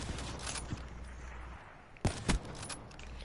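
Gunfire in the video game Black Ops 3: a steady low rumble of game audio is punctuated by a few sharp, loud shot bursts near the end.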